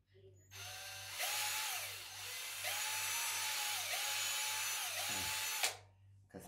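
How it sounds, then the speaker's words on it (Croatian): A power drill bores holes while a homemade bird-seed cleaning machine is being built, its whine rising and falling in several bursts over a low steady hum, close and fairly loud. "Treba bušiti sad tu rupe. I prvo bušimo rupe."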